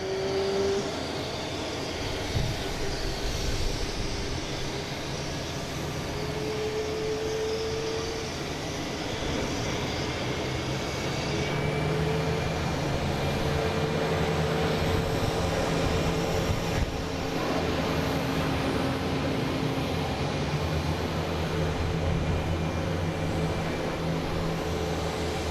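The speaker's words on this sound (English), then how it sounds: "That's Delta heading to Reagan, E175, flight 5667." A Delta Embraer E175 jet passes near Boston Logan International Airport, its steady engine roar building and holding loud over a broad rumble of traffic noise for the whole stretch, with a rising whine partway through.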